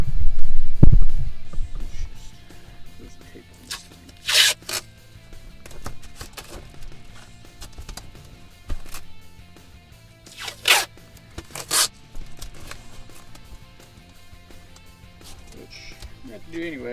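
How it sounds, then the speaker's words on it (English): Tape being pulled off a roll to hold carpet in a 1967 Mustang, several sharp ripping bursts at intervals, with rustling and handling noises and someone talking between them. "I'm going to tape this up out of the way."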